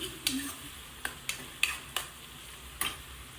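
Onions fry in a pan with ginger and garlic, a low sizzle running beneath several sharp scraping clicks of a spatula stirring against the pan at irregular intervals.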